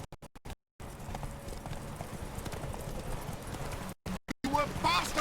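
Roach, a horse in The Witcher 3, gallops in a quick, steady clip-clop of hooves close by, with brief cuts and a voice speaking near the end.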